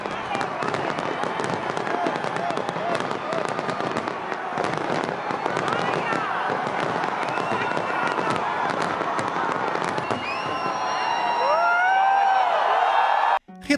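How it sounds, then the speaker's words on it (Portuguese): New Year's fireworks burst over the London Eye in a dense, continuous crackling barrage with whistling trails. A large crowd cheers and whoops underneath, and the noise swells loud toward the end. "o London Eye foi transformado no local oficial para a queima dos fogos comemorativos da passagem do ano"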